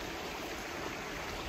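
Steady rushing of the East Branch river in Maine flowing over rocks, a broad continuous wash of water close by with no voices.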